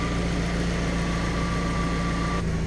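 A car engine idles steadily at just under 900 rpm during coolant bleeding work, giving a constant low hum and drone with no change in pace, loud and close throughout.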